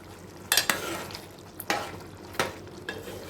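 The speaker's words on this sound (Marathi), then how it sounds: "परत असंच थोडंसं हलवून" A spoon stirs dry-style chicken curry in a pan, giving several distinct scraping strokes with a soft sizzle underneath, close and fairly loud, no talking.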